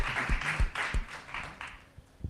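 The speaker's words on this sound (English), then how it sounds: "Yes, applause, please." Scattered, uneven applause from a small audience at a book presentation, a loose patter of clapping hands rising and fading over a couple of seconds with a few sharper nearby claps.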